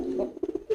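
A racing pigeon held in the hand gives a few soft, close coos in short pulses, fairly quiet with no talking.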